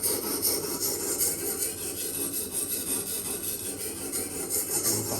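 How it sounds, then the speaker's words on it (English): A Randall 10-3 knife being sharpened on high grit stones in a Tsprof K03 sharpening system, a steady close-up abrasive rubbing and rasping in continuous back-and-forth strokes, no talking. "High grit stones, you can certainly hear the noise it makes."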